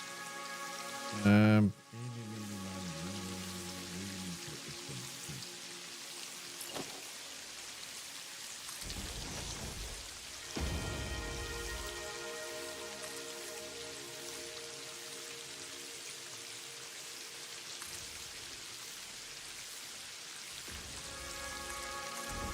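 Steady rain pours throughout in the factory-building game Satisfactory, a dense, even hiss that briefly shifts as other game sounds and a faint voice cut in.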